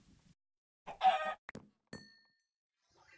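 Chickens clucking in the video game Agrarian Skies, a few short close squawks and clucks scattered over a few seconds with no speech.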